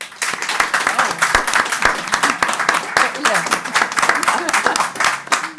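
An audience at a nature investment summit claps to vote on whether nature's value can be financially quantified, a dense steady round of many hands with some crisp individual claps standing out, fairly close and lasting throughout.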